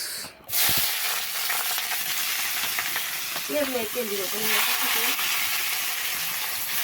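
Onions dropped into hot oil for a chicken dish give a steady, loud sizzling hiss that runs throughout, with a brief voice partway through.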